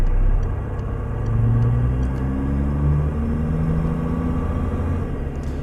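A Peterbilt 359 with a big cam engine in a truck simulator rumbles low and steady from inside the cab, a deep droning idle with faint whirring overtones and no voices.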